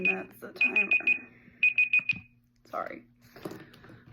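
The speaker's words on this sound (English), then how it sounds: "that's the timer" Beeping speech timer alarm, two bursts of four rapid high-pitched beeps, close and loud, followed by a person talking.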